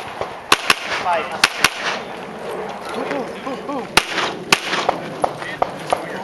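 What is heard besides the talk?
handgun gunshots at USPSA shooting match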